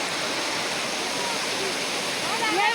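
Constant rushing hiss of the waterfall at Marleshwar, a broad, steady wash of falling water heard up close, with a faint voice briefly rising through it near the end.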